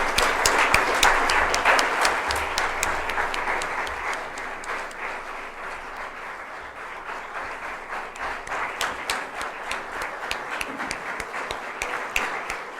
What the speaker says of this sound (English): please have a huge round of applause for our cancer warrior